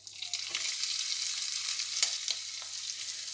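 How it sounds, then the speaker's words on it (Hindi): Onions sizzle in hot oil with cumin seeds while cooking bhindi sabji, a bright continuous frying hiss close up with a few soft stirring taps. "उसके बाद हम प्याज डाल देंगे।"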